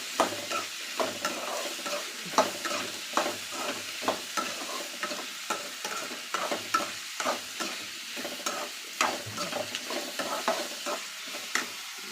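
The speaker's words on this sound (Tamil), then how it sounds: "உப்பு சேர்த்துட்டு காய் கொஞ்சம் நல்லா வதக்கிக்கலாம்." Vegetables sauté in a pan with salt. A spatula scrapes and stirs in a steady, repeated rhythm over a soft continuous sizzle, close and clear, with no voices.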